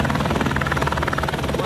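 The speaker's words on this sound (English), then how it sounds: "we just got a helicopter coming to land" A helicopter landing for scenic flights over Mount Panorama at Bathurst, its rotor chop and turbine whine loud and close, steady and continuous throughout.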